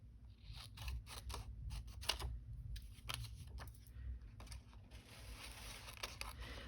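Scissors snip through playing cards in a quick, uneven series of sharp, close cuts against a quiet background, with no talking.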